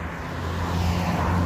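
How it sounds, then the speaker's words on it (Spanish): Cars and a large truck go by on a road, heard as a steady close rumble of engines and tyres with a low drone that builds slightly and holds throughout. "No, hay un terrible camión."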